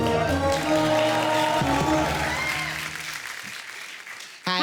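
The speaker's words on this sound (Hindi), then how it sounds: "जोरदार ताली इनके लिए।" A television comedy-show studio audience breaks into loud, dense applause that carries on with music and then fades toward the end before a short burst of sound.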